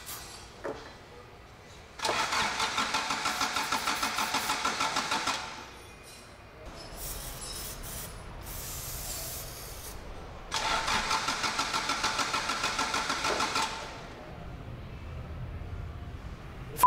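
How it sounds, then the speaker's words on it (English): Toyota AE86 project car engine being started: two long bursts of starter cranking, each several seconds, separated by a quieter stretch with clicks, close and fairly loud, no talking. "With majority of the wiring connected, I technically should be able to fire this car."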